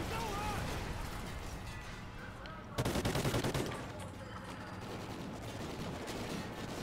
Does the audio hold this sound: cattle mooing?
no